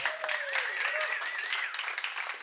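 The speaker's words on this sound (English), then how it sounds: "Give Josh a round of applause" A show audience claps for volunteer Josh, a brief, dense burst of applause from many hands, fairly close and steady, with a voice faintly calling out over it.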